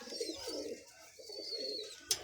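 Pigeons kept as a breeding pair murmur soft, repeated cooing in rolling phrases, close and quiet, with a brief sharp click near the end.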